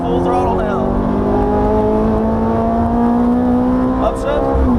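Ferrari F430 engine at full throttle on a race track, a loud sustained rising drone with strong harmonics heard from inside the car, briefly dipping near the end, with an instructor talking over it.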